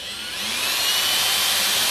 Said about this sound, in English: Take you a 1/2-inch drill,